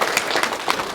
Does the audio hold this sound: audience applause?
yes